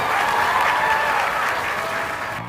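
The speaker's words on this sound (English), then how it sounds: "Give a big round of applause for her" A loud burst of applause from the audience at a school alumni meet on Founders' Day, dense and continuous before tapering off at the end.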